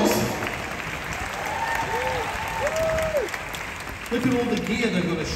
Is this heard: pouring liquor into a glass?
no